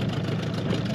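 A Suzuki DT 9.9 outboard boat motor, new and being broken in on its first outing on the water, drones with a steady dense engine rumble for one second, close and loud.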